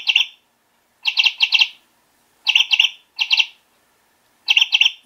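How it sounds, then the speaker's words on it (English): An electronic chickadee toy, set off by a parrot pushing it, gives bright, clear bursts of quick chirps, three or four at a time, separated by short silences and heard close and alone. "You like to listen to your chickadee chirp."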